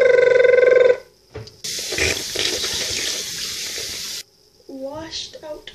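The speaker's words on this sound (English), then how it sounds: "Washed out the dye," Water rushes steadily for a few seconds while hair dye is rinsed out of dark hair, a loud, close spray framed by brief tonal sounds at the start and end.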